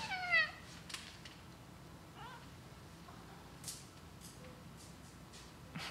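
A playful cat named Teak gives a short, clear meow up close, then a fainter second meow, with a few light knocks in a quiet room.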